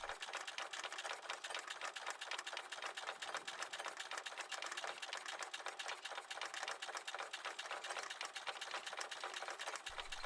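A steady, rapid mechanical clatter of a vintage diesel engine with a large flywheel running continuously, fairly faint and even, with no voices.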